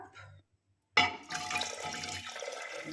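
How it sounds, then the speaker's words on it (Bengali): Water poured in a steady rush into a pot of chopped carrot, beans, capsicum and onion for vegetable soup in a pressure cooker, beginning abruptly after a moment of silence and continuing close and loud. "এবার জল অ্যাড করব জলটা দেব"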